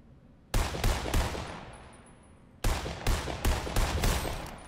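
Two bursts of rapid gunfire from a first-person shooter video game, loud and close, each a quick string of sharp cracks, the first around four shots and the second about five, separated by a short quiet gap.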